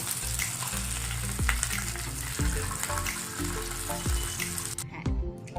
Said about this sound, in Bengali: তারপরে ভাজতে হবে লো ফ্লেমে।